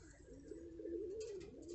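Low, wavering cooing from a pigeon, a steady throaty warble running through the whole moment, close by with faint background noise.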